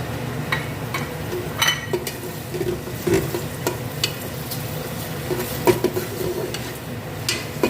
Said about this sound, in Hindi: हमारा घी जो है वो हो गया है एकदम, तो हम इसमें शामिल करेंगे अपनी प्याज, हम करेंगे गोल्डन ब्राउन